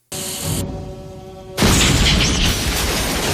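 A ray gun blast from a camera-lensed Cenobite in the Hellraiser 3 horror film: a steady tonal hum gives way after a short lull to a loud, sudden broadband burst that roars on to the end.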